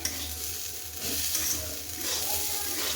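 Pulao rice with two whole chillies frying in a home kitchen pan gives a steady, close sizzle that swells and eases slightly over a few seconds, with no talking.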